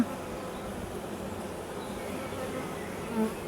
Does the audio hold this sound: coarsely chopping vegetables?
no